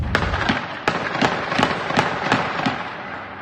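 Drone attack explosions in Israel crack out like firecrackers, about eight sharp, loud bangs spaced irregularly less than half a second apart, each with a short echoing tail and no voices.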